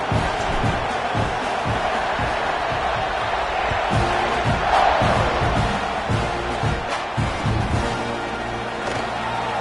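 Football stadium crowd roaring steadily through a kickoff after a touchdown and extra point, a dense, continuous wall of cheering with swelling peaks, and a commentator's voice faintly over it.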